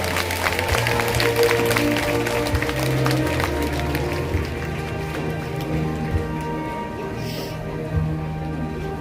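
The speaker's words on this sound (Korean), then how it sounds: "큰 박수와 감사 인사 보내주시기 바랍니다." A large outdoor crowd at the Buddha's Birthday ceremony at Jogyesa temple gives sustained applause, a dense patter of clapping that slowly thins out, with background music underneath.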